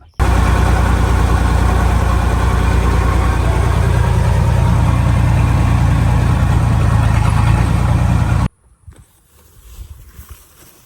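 A John Deere 4240 tractor engine idles loudly close by with a rough low rumble for several seconds, then cuts off abruptly, leaving faint background noise.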